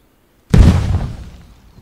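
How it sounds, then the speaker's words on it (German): An in-game kitchen explodes as gunpowder ignites while a fire is lit in This Land Is My Land: one loud, close, sudden blast with a deep boom that rolls and fades over about a second, with no talking. "die Küche explodiert beim Entzünden des Feuers"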